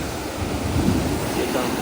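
Steady roar of surf and wind on a Visakhapatnam beach, broadband and continuous, with strong waves washing in close by; no voices.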